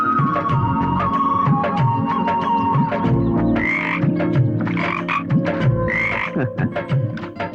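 A frog croaks repeatedly in a Tamil feature film scene. The loud, rhythmic croaks sit over a steady background of ambience and music, with no talking.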